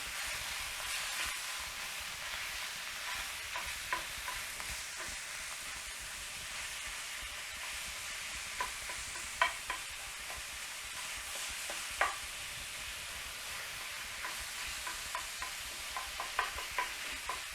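Ground meat for a Finnish meat sauce sizzles steadily in a pan while a utensil stirs and breaks it apart, adding frequent scraping clicks over the continuous frying hiss.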